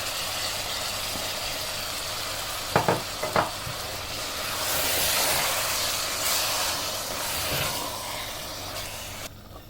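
Tomato puree ground with green coriander and green chilli frying in a pan, a steady close sizzle with a few sharp clinks of a spoon early on, then a louder hiss swelling midway.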